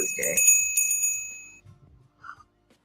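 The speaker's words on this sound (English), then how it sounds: "That's the bell right there." A bell rings once in a bright, sustained ring that fades after about a second and a half, with people talking over and after it.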